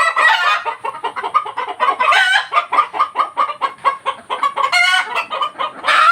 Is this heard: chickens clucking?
yes